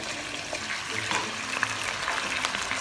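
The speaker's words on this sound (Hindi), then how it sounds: "अब सबसे पहले मैंने गोश्त डाला है" Mutton pieces frying in a karahi, a steady close hiss of sizzling oil with faint stirring scrapes and no talking.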